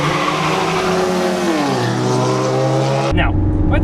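A front-wheel-drive car spins its driven front wheels under hard acceleration, engine revving high with a steady whine that shifts pitch before cutting abruptly; voices are heard alongside.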